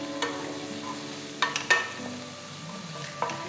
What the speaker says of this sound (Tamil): அடுத்து 1 வெங்காயம் பொடியாக நறுக்கினதை சேர்த்து 1 நிமிஷத்துக்கு வதக்குங்க.